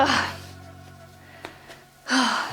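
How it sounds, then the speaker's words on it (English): Heavy, breathy exhalations after a session of splits stretching, two loud gasping breaths at the start and end with a quieter pause between, close to the microphone. "heavy breathing."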